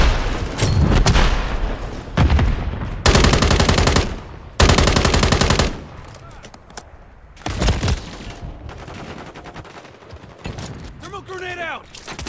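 A thermobaric grenade blast and heavy gunfire in Call of Duty MWIII, with several loud, dense bursts of firing and booming impacts in blocks, then quieter rumbling and short shouted voice callouts.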